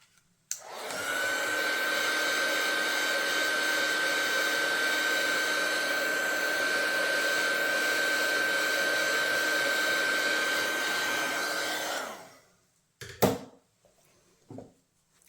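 A heat embossing tool blows steadily for about eleven seconds, a loud close whirring roar with a high whine, drying ink on a handmade card, then cuts off and a few light handling knocks follow.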